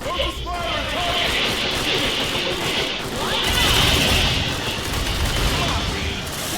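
Gunfire from colonial marines in Aliens: Dark Descent, a continuous loud clatter of automatic weapons with crashes and game effects throughout, with voices over it.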